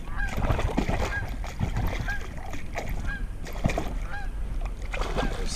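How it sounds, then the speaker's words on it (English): Goose honking repeatedly at a swamp during a fishing trip, a rhythmic series of loud nasal honks over splashing and outdoor background noise. "Oh no, not the goose."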